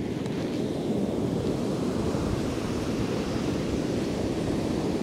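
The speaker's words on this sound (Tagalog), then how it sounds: "Malakas ang ano, malakas ang alon." Strong ocean surf breaking at Kilcunda beach during surf fishing, a steady, loud roar of crashing waves with wind buffeting the microphone throughout, no voices.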